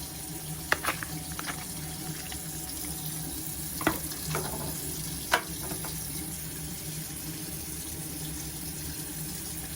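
Tap water runs steadily and close by while a Rolex watch is washed with soap, a continuous hiss broken by a few short splashes and clatters.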